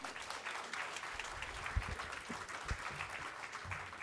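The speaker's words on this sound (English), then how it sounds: "Let's give him a hand of applause as well." Audience applauding steadily at a keynote ceremony for World Rangers Day, a full room clapping continuously for about four seconds, moderately loud with a few louder claps standing out.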